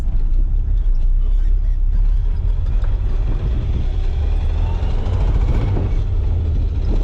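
A car nicknamed Judas rolls up onto a dyno, its engine giving a loud, steady low rumble that holds evenly throughout, with no other sounds rising over it.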